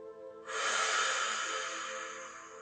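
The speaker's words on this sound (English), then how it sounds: "big exhales" A big, long exhale during a guided breathwork and meditation session, a close, breathy rush of air that swells quickly and slowly tapers over a couple of seconds.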